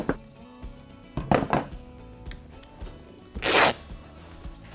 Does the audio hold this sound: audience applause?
no